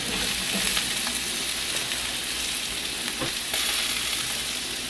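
Food sizzles in a hot pan while a homemade Thanksgiving green bean casserole is being made, a loud, continuous frying hiss that stays even throughout with no voices.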